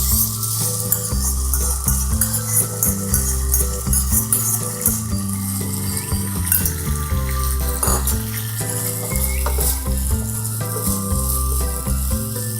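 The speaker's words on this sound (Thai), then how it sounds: "เราก็นำซอส นะครับ ที่เราแยกไว้เมื่อกี้นี้นะครับผม ใส่ลงไปเลยครับ" Sauce poured into a hot pan while stir-frying a Thai dish sizzles loudly and continuously, with scraping stir sounds over steady background music and no talk.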